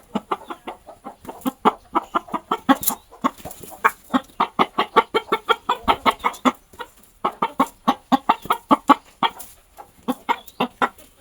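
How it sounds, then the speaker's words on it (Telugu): Village country rooster clucking, a long run of rapid rhythmic clucks close by, pausing briefly a few times and then resuming at a steady pace. "పుంజు."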